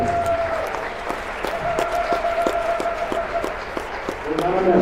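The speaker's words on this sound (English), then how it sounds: "let's have a big round of applause for all the seniors in our team" Applause for the seniors at a high school basketball game, Akron-Westfield vs South O'Brien, a moderate gym crowd clapping with scattered sharp claps under loud talk and a sustained tone in the background.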